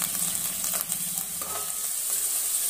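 Peas, onion and green chilli frying in oil, a steady close sizzle running the whole time with a few light clinks and stirs of a utensil in the pan.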